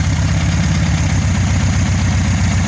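A 1974 VW Beetle engine idles steadily after a timing adjustment, with a low, even rumble and a faint mechanical rattle, close by and continuous, with no voices.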